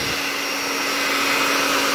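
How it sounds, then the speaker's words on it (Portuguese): A hair dryer blows hot air along a refrigerator door's rubber gasket, a loud, steady whooshing motor hum that holds constant from start to end with no talking. "Então vamos passar o secador de cima a baixo, aquecendo um pouco a gacheta"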